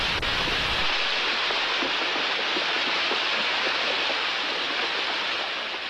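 Water rushes and churns through an opened irrigation head gate in a loud, steady torrent, close by, a constant broadband roar that starts abruptly and runs unbroken.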